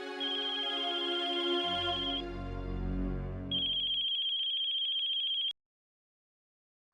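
A mobile phone rings with an incoming call during a Hindi family drama scene: a bright, repeating melodic ringtone plays steadily for about five seconds, with a low musical swell under part of it, then cuts off abruptly.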